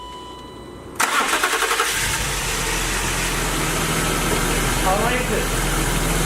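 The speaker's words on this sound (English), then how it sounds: "let's hop in the car, start it up, right, and enjoy that new clutch" A BMW engine cranks and catches after a brief quiet, then settles into a steady, loud idle with a fresh fan clutch fitted, recorded up close while someone speaks briefly over it.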